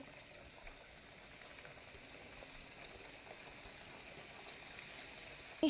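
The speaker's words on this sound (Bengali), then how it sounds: "তো আমি এই ব্যাচটাও একইভাবেই ভেজে নিব।" Soft, steady bubbling hiss of flour-based snacks deep-frying in hot oil, a continuous fine crackle at low volume with no voices, ending in a faint clink.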